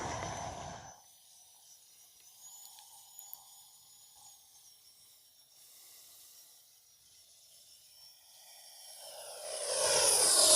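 A radio-controlled Freewing F-22 Raptor jet's turbine whines and hisses in the distance, fading to a faint drone at reduced power before swelling louder again as it passes overhead.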